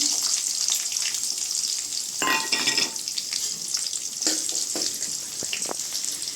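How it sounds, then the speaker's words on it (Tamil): Onions and curry leaves fry in a pan for Chettinad mutton chukka, giving a steady hissing sizzle with occasional stirring scrapes and clatter, close and continuous. "கறிவேப்பிலை போட்டு வெங்காயம் போட்டுக்கலாங்க."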